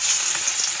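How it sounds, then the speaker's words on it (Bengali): Fish pieces rubbed with turmeric and salt drop into hot oil in a kadai, producing a brief, bright, steady hiss of frying close by. "মাছগুলো হলুদ লবণ দিয়ে মাখিয়েছি, এখন আমি তেলে ভেজে নেব।"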